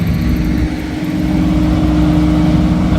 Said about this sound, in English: Let's take a look at the vacuum trucks in action, guys. Might be a little loud, so maybe lower your volume.